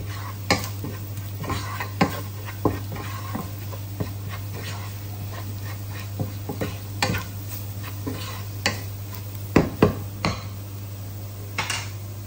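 Beef saluna is stirred in a pan, with a steady low frying sizzle and repeated scraping and clinking strokes from the spoon against the metal, several sharper knocks standing out, close and moderately loud with no talking.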